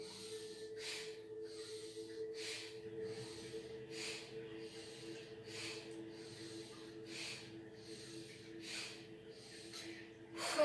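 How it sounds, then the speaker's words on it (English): Rapid, forceful breathing during a deep breathing exercise: about a dozen quick inhale-exhale cycles at a steady, fast rhythm, with each breath a close, hissing rush of air over a faint constant hum. "keep going. Inhale, exhale."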